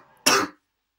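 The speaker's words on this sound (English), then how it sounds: "Why are you switching from sneezing to coughing now?" One short, sharp cough from a person nearby, loud and abrupt, then silence.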